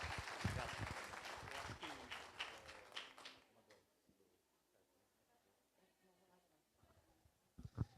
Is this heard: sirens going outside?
no